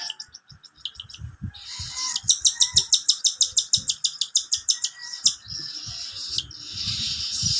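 Pet cockatiel being hand-fed calls out with rapid, repeated chirps, loud and close, in a long rhythmic burst between shorter tweets.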